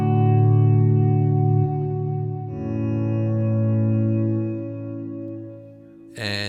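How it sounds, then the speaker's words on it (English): A sustained guitar tone runs through the swell reverb of a Collider Delay+Reverb pedal, a smooth, loud wash that shifts pitch partway and slowly fades, then a sharp new strum at the end. "here is the swell reverb by itself"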